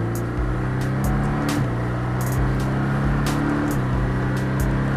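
A Porsche Cayman S accelerating on a driving circuit at Le Castellet, engine revving strongly in steady rising sweeps with brief dips at gear changes, loud and close from inside the car.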